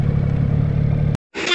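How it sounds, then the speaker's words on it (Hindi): A motorbike on a rough road in Ladakh rattles and rumbles loudly up close, then cuts out abruptly into near silence before the clattering engine noise returns. "धड़धड़ा रही गाड़ी।"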